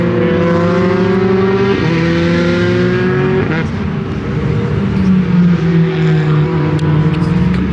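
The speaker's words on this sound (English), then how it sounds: "you have LMP cars driving by" LMP race cars pass on a racetrack, their engines droning loud and steady with rising and falling pitch sweeps as the cars accelerate and pass, with no talk over them.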